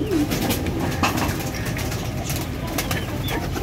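Pigeons, mostly white, bathing in bright sun give low, soft coos throughout, with splashing water and occasional wing flutters mixed into a steady background.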